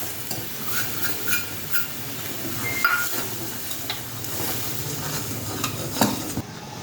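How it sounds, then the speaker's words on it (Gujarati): Roasted amaranth flour is stirred into boiling water in a pot for a fasting upma, with steady scraping of a spoon against the pan, light clinks and a soft bubbling hiss underneath. "હવે એમાં આપણે 1 વાટકી જે રાજગરો શેકેલો છે એ નાખી દઈશું."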